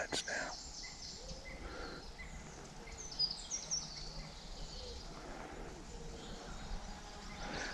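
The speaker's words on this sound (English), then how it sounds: "You can only hear birds now." Faint birdsong around a lakeside campsite in the Lake District: scattered distant chirps and tweets over a quiet outdoor hush, with a few sharper calls midway and soft background noise.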